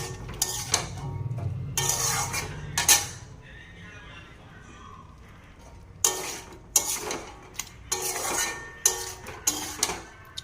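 Mutton masala being stirred and pressed in a kadai with very little oil, the spoon scraping and clanking against the metal in bursts of sharp knocks, with a quieter stretch in between.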